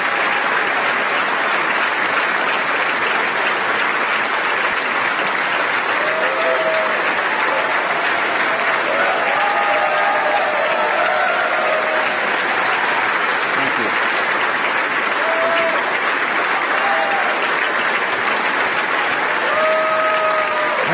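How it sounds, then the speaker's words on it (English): Sustained, dense applause from a large political rally audience after a speech, steady and loud throughout with faint cheers and whistles rising above the clapping. "Everyone's afraid to stop clapping."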